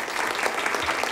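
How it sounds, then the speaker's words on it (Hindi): A short burst of audience applause greeting a street-magician performer on a television show stage, dense and steady clapping filling the whole moment. "तो जोरदार तालियों से उनका स्वागत कीजिए"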